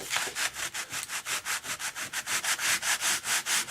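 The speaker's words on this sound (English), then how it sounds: "And I'm sanding it." Rhythmic sandpaper strokes rubbing across a wooden part of an F-86 RC model airplane, close up, fast and even, continuing without pause and with no voices.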